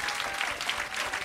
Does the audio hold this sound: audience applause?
yes